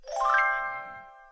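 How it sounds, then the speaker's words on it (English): A bright electronic chime from a preschool piano music game app rings out as a UFO effect, rising quickly then fading in a smooth sustained tone, alone and clear. "UFO sound."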